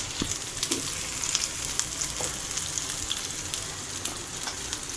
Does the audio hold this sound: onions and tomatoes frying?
yes